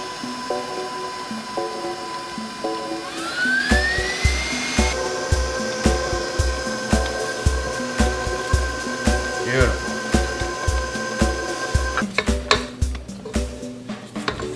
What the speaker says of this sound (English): we're just going to incorporate that egg for about 20 seconds as I squeegee down the side of the bowls a little bit